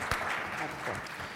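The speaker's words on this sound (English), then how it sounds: "Big round of applause for our second panel" Audience applause for the second panel at a food assistance conference, a dense steady wash of clapping hands filling the room throughout, fairly close and even in loudness.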